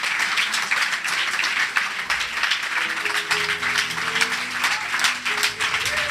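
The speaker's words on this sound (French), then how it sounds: "On va acclamer Jésus un peu." A church congregation applauds and cheers in praise of Jesus, with dense, steady clapping throughout and tonal voices or music rising in the second half.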